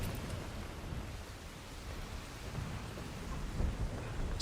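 A low, continuous rumble of thunder rolls under steady rain in the video game ARC Raiders, with a broad, muffled wash of noise throughout.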